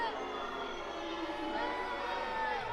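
A wrestling crowd at a Brady Phillips vs. Dan Evans match roars and cheers in a steady distant wash, with a commentator's voice over the noise.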